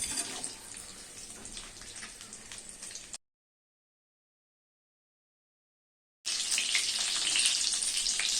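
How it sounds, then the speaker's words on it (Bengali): Sliced onion frying lightly in oil in a pan, a soft continuous sizzle that cuts out to complete silence for about three seconds, then resumes slightly brighter. "তো হালকা করে আগে পেঁয়াজটা ভেজে নিই"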